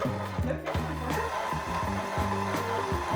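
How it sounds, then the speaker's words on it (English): A stand mixer creams butter and icing sugar in its bowl for a raspberry Valentine's cake, giving a steady, close motor whir with a rhythmically pulsing hum that runs the whole time without any voices. "Add your butter and icing sugar in a bowl of a stand mixer"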